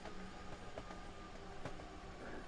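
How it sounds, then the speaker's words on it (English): Simulated passenger train running on the German Rhein Ruhr Osten route in Train Sim World 3, a steady rolling rumble with faint rhythmic track clicks, heard quietly and without talking. "It's a very quick train"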